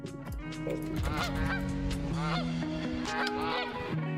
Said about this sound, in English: There's that goose. Don't know why it's honking at me.